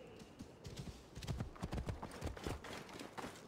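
Horse hooves clip-clop in a steady rhythmic gait in the video game Assassin's Creed Origins, close and fairly loud for several seconds without talk.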